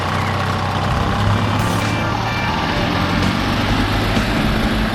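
An EZGO TXT golf cart engine, still cold, idles and runs with a loud, steady, rough drone close by, with a little background noise.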